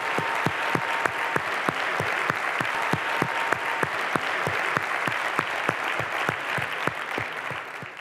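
Warm audience applause greets Michael Kremer before his lecture on randomized evaluations in development economics, steady clapping from a sizable crowd in a hall, even and sustained throughout with no voices over it.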